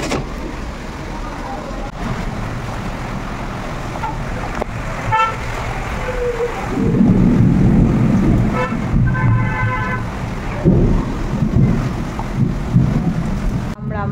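A thunderstorm with heavy rain makes a loud, continuous roar of rainfall that swells midway and stays dense to the end. Occasional faint tones and brief voices sit beneath it.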